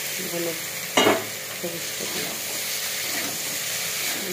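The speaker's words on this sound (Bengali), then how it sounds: "আমি এইবার ভেজে রাখা কপিটা আমি দিয়ে দেবো এর মধ্যে" Broccoli florets, already fried, tipped into a pan of spiced broccoli curry and stirred, giving one sharp loud splash and sizzle near the start, then a steady low frying hiss with faint scraping stirs.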